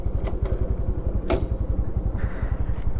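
A Honda Super Cub 125 fitted with a 14T front sprocket runs while riding, its engine thrumming in a fast, steady low pulse with a few light clicks and rattles, close and without talk.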